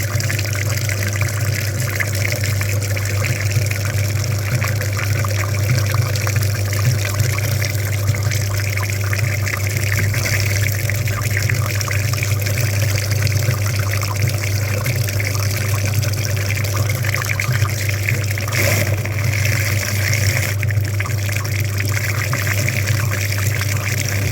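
A Daewoo Sens cooling system being flushed with liquid: a steady, continuous watery flow and gurgle with a low hum underneath, unchanging for the whole stretch and close to the listener.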